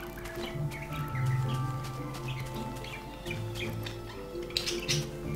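A parrot in Minecraft chirps in short repeated tweets over a steady game background hum, fairly close and moderately loud, with a few sharper bursts near the end.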